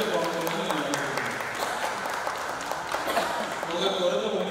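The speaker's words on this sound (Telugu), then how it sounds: "ఒకసారి మనందరూ చప్పట్లతో సంఘాన్ని అభినందిస్తే బాగుంటుందని నేను అనుకుంటున్నాను" Congregation clapping together at a church men's fellowship anniversary service, a steady dense patter of many hands filling the room for several seconds with a few voices mixed in.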